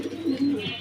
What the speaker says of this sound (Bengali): এখানে দেখতে পাচ্ছেন এক জোড়া জার্মান বিউটি কবুতর